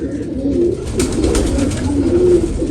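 A racing pigeon coos close by in a soft, repeated, throaty rumble, alone and clear.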